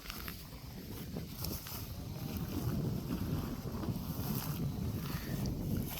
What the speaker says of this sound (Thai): ลมเย็นๆครับ หน้าหนาว